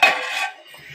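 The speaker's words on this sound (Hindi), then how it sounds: "अब हम इसके ऊपर ढक्कन दे देंगे" A metal lid clanks down onto a cooking pot of potato and egg curry, one sharp close ringing hit that fades quickly.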